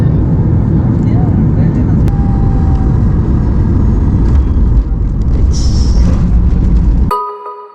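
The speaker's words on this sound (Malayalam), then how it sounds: "ഫ്ലൈറ്റ് നല്ലോണം ഷേക്ക് ചെയ്യുന്നുണ്ട്. നല്ല ടർബുലൻസ് കേട്ടോ." Loud, steady broadband roar inside an airliner cabin during a shaky, turbulent stretch of flight, continuous for about seven seconds before cutting off abruptly.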